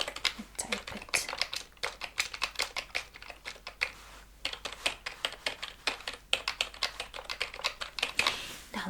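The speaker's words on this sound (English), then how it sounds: "let me type it." Fast typing on a computer keyboard, heard close, with crisp irregular key clicks in quick bursts and brief pauses over a quiet room.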